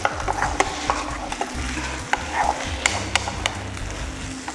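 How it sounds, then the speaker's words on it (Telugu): Vegetables being stirred and fried in a pan for a yogurt-based curry with tamarind, a steady close sizzle broken by repeated sharp ladle scrapes and taps, with no talk. "పులుసులో పచ్చిపోయేదాకా మనం దీన్ని ఒకసారి వేయించుకుందాం"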